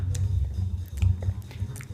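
A child chews banana with wet lip-smacking, short moist smacks and squishes repeating close to the microphone over about two seconds.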